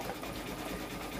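A faint, steady mechanical whir of an SE425 embroidery sewing machine stitching a towel in the background, continuous and low in level.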